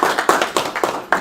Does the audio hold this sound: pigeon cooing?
no